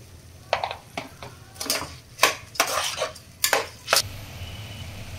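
Rice is sautéed in a pot for chicken dum biryani, with a series of close metal clinks and scrapes as a spoon stirs against the pot, spaced irregularly over a low background.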